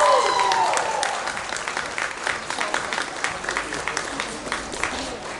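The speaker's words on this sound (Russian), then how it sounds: "Аплодисменты нашим участникам." An audience applauds the winners at a dog grooming award ceremony, a dense burst of clapping that starts strong and tapers, heard under a few spoken words.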